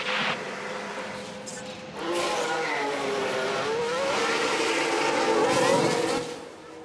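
F1 race car engines from the video game F1 Manager on track during practice in Miami, a high-pitched engine whine rising and falling as cars accelerate, steady and moderately close.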